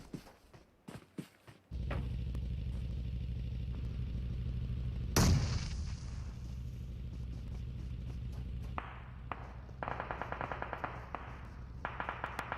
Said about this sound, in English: some more crossfire shots now coming in from Alex G